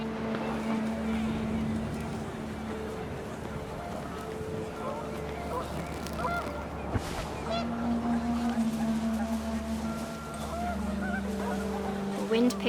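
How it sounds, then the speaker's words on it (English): Panicked geese honking in What Remains of Edith Finch, several overlapping calls over a low rumbling wind and engine-like drone, with a voice speaking over part of it. "panicked geese appeared and quickly went"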